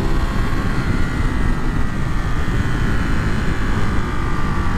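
A 2023 Ducati Monster SP motorcycle engine drones loudly and steadily at riding speed, a continuous rough roar mixed with wind rush, with no talking.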